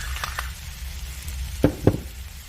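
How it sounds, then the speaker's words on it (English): Turkey and cabbage fry in a skillet with a steady close sizzle while a spatula stirs and scrapes, giving two sharp knocks against the pan near the end. "Give that a good stir."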